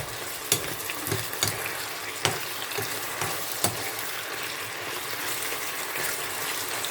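Chicken pieces stir-fried in oil over low heat as it starts to dry, a steady soft sizzle with occasional sharp scrapes and clicks of a spatula against the pan, no voices.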